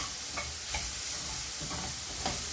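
Onion sautéing in a pan for radish sambar, a steady close sizzle with several quick stirring scrapes spaced through the short stretch.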